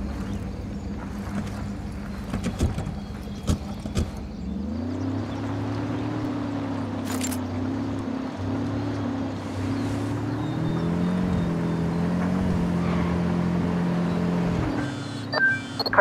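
A car in Ghost Recon Wildlands starts up and is driven at a steady pace. Its engine drones with a low hum that shifts pitch as it speeds up and changes gear, with scattered clicks and thuds early on.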